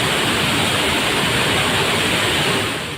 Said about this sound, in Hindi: बिहार के रोहतास में वाटरफॉल के रौद्र रूप को देखकर लोगों के रोंगटे खड़े हो गए।